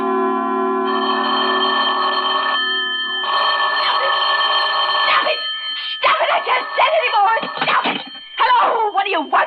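An old telephone bell rings loudly in a radio drama, sounding in long repeated bursts with a short pause between, then stopping as a voice begins talking.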